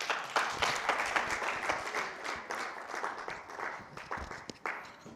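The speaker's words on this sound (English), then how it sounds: "if you are giving her a round of applause," Loud, sustained applause from a crowd, dense clapping that swells and dips steadily throughout with no voices standing out.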